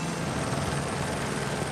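A Lee County Sheriff's Office helicopter overhead during a rip current rescue, a loud, steady rotor and engine drone that fills the whole moment, with a voice speaking over it.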